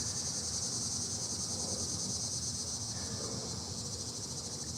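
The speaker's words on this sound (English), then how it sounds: "You guys can hear they're technically cicadas" Loud, steady cicada chorus outdoors, a dense continuous high buzz filling the whole stretch with no pauses.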